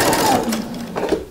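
A sewing machine sews a seam on a knit jumpsuit with a steady close-up whir, and a voice speaks faintly beneath the motor.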